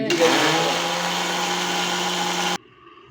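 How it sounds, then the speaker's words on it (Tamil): A mixer grinder grinds coconut with a loud, steady whirring drone for about two and a half seconds, then cuts off abruptly, leaving faint room noise. "இப்போ வந்து தேங்காய் தனியாக அரைச்சிக்கலாம் தேங்காய் அரைக்கிறாங்க"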